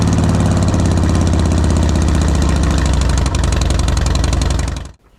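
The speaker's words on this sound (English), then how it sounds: "start the bike up and let it run for 30 seconds or so" A Harley-Davidson Heritage Softail motorcycle engine idles loud and close with a steady, lumpy rhythmic throb, then cuts off abruptly near the end.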